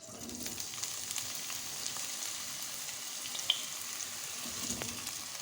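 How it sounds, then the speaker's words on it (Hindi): Eggplant goes into oil already used to fry onions for aloo baingan and sizzles with a faint, even hiss. A single sharp tick stands out partway through, and nobody speaks. "जिस तेल में हमने प्याज फ्राई की थी उसी तेल में हम डालेंगे बैंगन"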